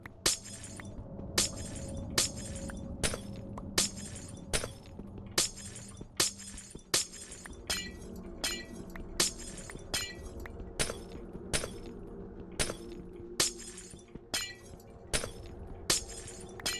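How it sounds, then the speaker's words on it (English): A video game plays its glass-breaking sound over and over, some twenty sharp shattering crashes at a steady pace of roughly one per second above a low background hum, with no talking. "if you're not sick of hearing the glass breaking sound now"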